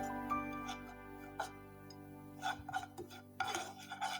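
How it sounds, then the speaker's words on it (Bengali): A spoon stirs semolina in ghee in a pan over low heat, giving soft scraping and clinking strokes in an irregular rhythm that grow busier toward the end, close and fairly quiet, with a steady hum underneath. "হালকা হিটে আমি হালকা এই ঘিয়ের সঙ্গে ভালো করে একটু নেড়ে চেড়ে নিচ্ছি।"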